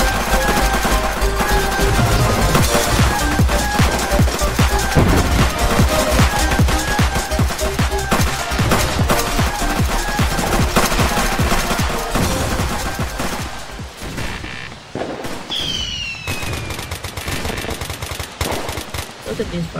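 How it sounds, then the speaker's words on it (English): Loud, continuous fireworks barrage in the Roblox game ER:LC at its billion-visit celebration, dense rapid crackles and pops that ease slightly near the end, where a rising whistle cuts through. "Look at these fireworks, dude."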